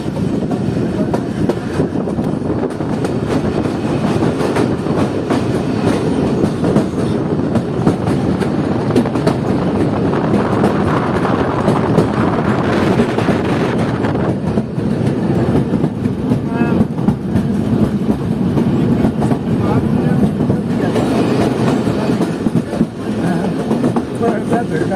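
The Jand passenger train rolls slowly across the Haro bridge toward Attock, giving a steady, loud rumble of wheels and carriages with faint clatter that lasts throughout.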